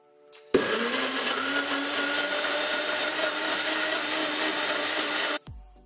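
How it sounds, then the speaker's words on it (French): A blender whirs steadily for about five seconds, loud and even, as it purees smoothie ingredients with fresh mint leaves, then cuts off abruptly with a short spin-down; no voices. "Une fois que j'ai mis tous les ingrédients dans le bol du blender, j'ai tout simplement tout passé au mixeur comme d'habitude."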